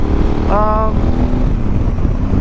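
A motorcycle fitted with an Arrow full titanium exhaust system runs with a loud, steady engine rumble, and a brief higher whine rises partway through.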